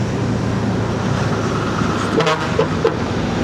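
A car horn honks briefly in night traffic as a vehicle turns right, sounding over the steady hum of road noise with a few short toots.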